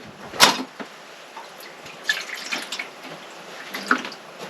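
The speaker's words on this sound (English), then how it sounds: "Let's put some water in this thing." Water poured by hand into a coffee maker during a power outage at night, heard as a few separate splashing, dripping bursts spread across the moment, close and fairly quiet, with no talking.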